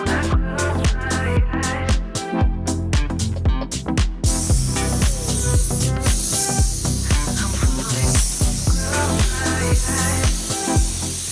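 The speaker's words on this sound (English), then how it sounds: "now we've shot a little bit of sealer on the pieces" Sealer sprayed onto BMW E46 M3 interior trim pieces makes a steady hiss that starts about a third of the way in and runs to the end, partly under rhythmic background music.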